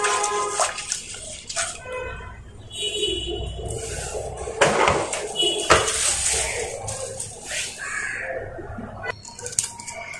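Black gram lentils with chili and cumin powder are stirred in a pot, with close metallic scraping and clinking, watery sloshing, and occasional louder knocks of the spoon against the pot.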